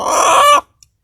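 A single loud, close call from a Fayoumi chicken being handled for a vaccination, lasting about half a second and then cut off into silence.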